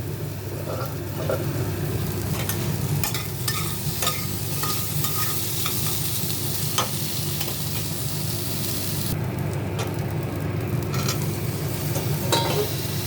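Spinach sizzles and fries in a little oil while being stirred, a steady close crackle with occasional scraping and clinks of the spoon against the pan.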